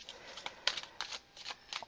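A deck of tarot cards being shuffled by hand, a quiet close riffle of several short papery bursts in an uneven rhythm.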